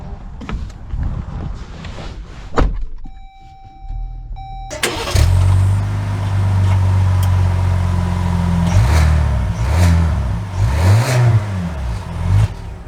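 A new Jeep Grand Wagoneer (Series III) starts up after a few soft electronic chimes. The engine catches with a burst and settles into a steady, close hum, with revs rising and falling as it pulls away. No one speaks.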